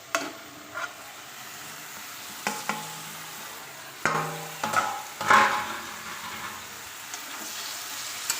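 Potato and eggplant pieces fry with spices in a pan, giving a steady soft sizzle broken by repeated scraping and knocking strokes of a spatula as they are stirred.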